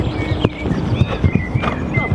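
Horse hooves clip-clop in a steady rhythm on the right rein while approaching a jump, the footfalls close and regular with snorting breaths between them.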